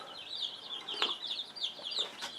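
Backyard chickens clucking softly in short irregular bursts, faint and close, with no talk.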